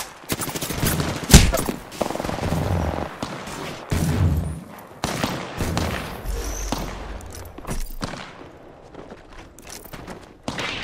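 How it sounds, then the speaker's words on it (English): Rapid gunfire in the Apex Legends video game, with dense bursts of shots, booms and thuds running almost continuously at close range. "Shots fired at me."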